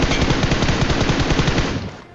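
Rapid automatic gunfire in a battle royale video game, a dense, loud burst of fast repeated shots rattling continuously for about two seconds before tapering off.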